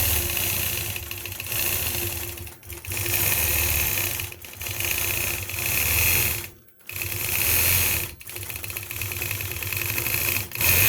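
A sewing machine quilting, whirring in long continuous runs of rapid stitching, each burst lasting one to two seconds, broken by brief stops, close and steady, with no talking.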